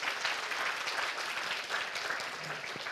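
A crowd at a hospital foundation project opening ceremony in Thailand claps steadily for a few seconds, a dense, even patter of applause with no pauses.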